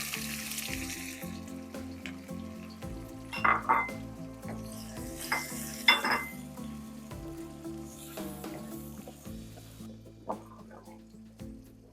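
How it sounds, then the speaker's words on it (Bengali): Onion, garlic and chopped ginger sizzle in hot oil with cumin seeds for a thin Bengali khichuri, a steady frying hiss broken by a few sharp clinks of a utensil against the pan, with soft music running underneath. "এখন আমি এতে দিয়ে দিচ্ছি পেঁয়াজ, রসুন এবং একটু আদা কুচি।"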